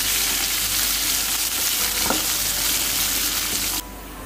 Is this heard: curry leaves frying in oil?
yes